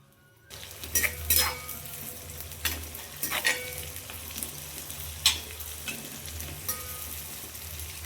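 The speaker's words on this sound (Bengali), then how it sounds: "প্রথমে আমি পেঁয়াজটাকে বেরেস্তা করে নেব" Sliced onions frying in white oil in an iron wok, a constant sizzle punctuated by several sharp metallic scrapes and clinks of a spatula against the pan, close and alone.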